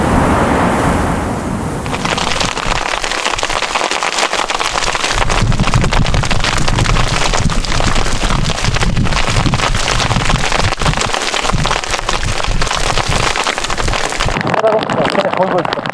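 Hail pours down hard at about 4,000 metres in the Himalayas, a loud, dense clatter that stays continuous throughout and swells after the opening seconds, with a voice talking over it.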